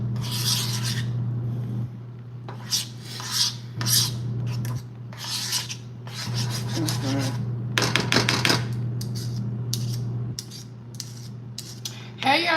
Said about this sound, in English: I'm just going to scrape the sides with a spoon.